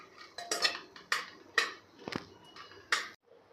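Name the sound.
cashews and almonds being roasted in a pan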